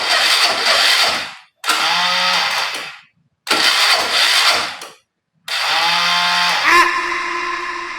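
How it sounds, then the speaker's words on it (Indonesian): Honda Vario scooter with Kawasaki modifications, its engine cranked by a carburettor-type Honda Beat electric starter: four loud whirring bursts separated by short silences, the last catching and settling into a steady idle. "Untuk starter mesinnya juga masih pakai starter Beat karbu dengan suara khasnya"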